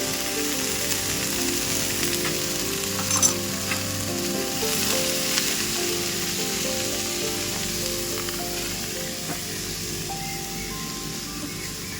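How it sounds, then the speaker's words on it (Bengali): Greens crackle and hiss steadily in a hot pan with salt and turmeric, a dense continuous sizzle with occasional small pops, under faint background music. "শাকটা একটু ভাজা হোক"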